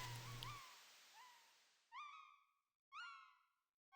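Chirping bird calls from the opening of the Chrono Trigger video game: a fading tone with a few chirps, then three bright bursts of descending chirps about a second apart, clear and isolated.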